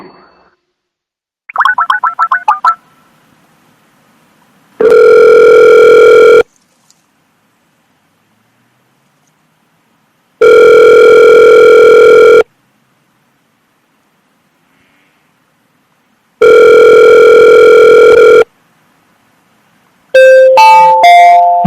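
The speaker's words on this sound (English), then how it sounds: "you might hear a ring in the background." Telephone ringback tone while dialing into a conference line: three long, loud, steady rings with silent gaps between them, followed by the start of an automated voice prompt.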